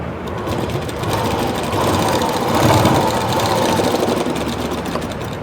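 A sewing machine runs steadily, stitching the folded quarter-inch hem of a fall onto a sari, its fast mechanical chatter continuous and close with no talking.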